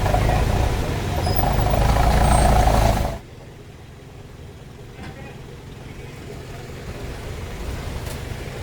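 An MMDA tow truck hauling an illegally parked car on a city street gives a loud, close diesel rumble that cuts off abruptly about a third of the way in, leaving quieter street ambience with voices in the background.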